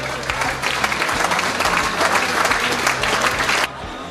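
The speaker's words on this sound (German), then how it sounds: "Applaus, danke" Crowd applause at a charity ski race gathering following an auction, a thick continuous clapping that holds steady and then drops off abruptly near the end.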